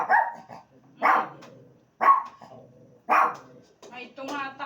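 A chihuahua barks in four sharp, separate bursts spaced about a second apart, close and fairly loud, followed by a brief whining yip; no speech over it.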